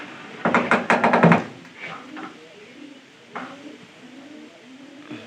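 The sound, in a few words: pigeons cooing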